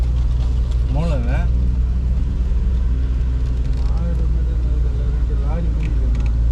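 A lorry rumbling along a road at night between Cumbum and Kumuly, heard as a steady loud low engine drone that runs throughout, with people talking over it.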